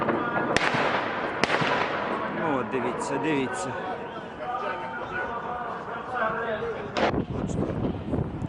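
Several sharp, loud bangs ring out over a noisy outdoor scene, with people shouting and talking throughout.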